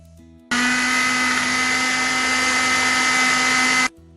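Kitchen blender whirring steadily for about three and a half seconds, blending watermelon with mint leaves and ice cubes into a smoothie; loud, even motor drone that starts and stops abruptly, with no talking.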